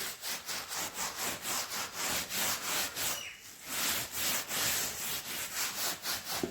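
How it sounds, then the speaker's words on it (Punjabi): A brush with detergent is scrubbed hard over a cot, making steady rhythmic rasping strokes, close and fairly loud, with one brief pause midway and no talking. "ਸਰਫ ਤੇ ਬ੍ਰਸ਼ ਦੇ ਨਾਲ ਬਿਲਕੁਲ ਰਗੜ ਕੇ ਸਾਫ਼ ਕਰਤਾ"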